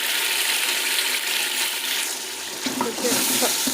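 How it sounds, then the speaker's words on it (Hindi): Spice masala with red chili sizzling and being stirred in a pan while aloo gobhi is cooked, a dense, continuous close-up frying hiss with light scraping toward the end. "इसे भी हम 1 से 2 मिनट तक अच्छे से भूनेंगे।"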